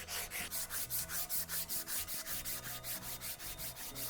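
Rhythmic sanding on a welded steel bicycle steerer tube being finished smooth, repeated rasping strokes about four per second, close and steady with a low mechanical hum beneath.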